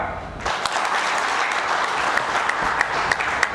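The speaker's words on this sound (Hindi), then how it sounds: "इन सब के लिए बहुत तालियां।" An audience at a school founder's day celebration gives sustained applause for the cadets, a steady wash of clapping with a few sharper individual claps standing out.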